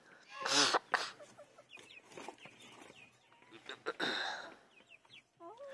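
A hen near a domestic goose pen clucks in short, uneven bursts close by, with scratchy rustling and a few sharp noises between calls; fairly quiet, with no talking.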